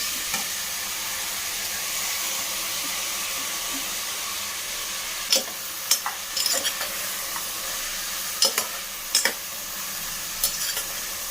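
Tomato and green chili fry for a veg biryani, giving a steady, close sizzle with occasional clatters of stirring in the pan.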